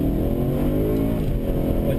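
A BMW M3 on a track holds a steady, loud engine drone from inside the car, a constant mechanical hum with no clear rise in revs over two seconds.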